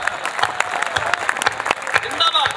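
An audience at a Hindi kavi sammelan, a poetry gathering at the Harni Mahadev fair in Bhilwara, breaks into lively applause, with bursts of clapping rising and falling and a few voices mixed in.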